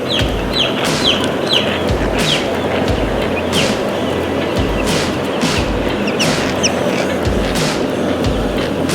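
Dense chatter of 6-day-old broiler chicks, many high peeps and clucks overlapping continuously at close range over a steady barn hum, with no talk.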